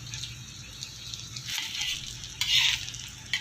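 Spinach omelette frying in oil in a pan, a soft continuous sizzle with brighter crackling bursts and a faint low hum underneath, close and steady, no talk.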